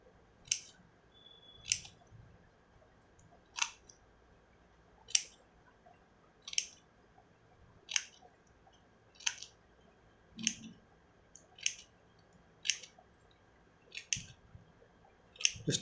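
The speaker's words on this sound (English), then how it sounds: "Now we have to cut all these lines, small lines over this circle like this to the small circle." Scissors make a series of short snips through paper while cutting small lines around a circle for a graduation cap craft box, about a dozen crisp cuts at an uneven, unhurried rhythm, close and fairly quiet.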